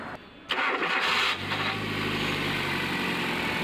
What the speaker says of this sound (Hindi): तो हो गया गाड़ी का इंजन स्टार्ट